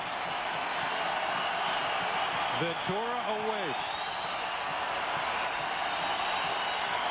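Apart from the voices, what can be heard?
baseball stadium crowd noise swelling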